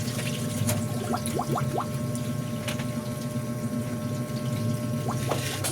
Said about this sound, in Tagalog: Talakas ang gripo ngayon.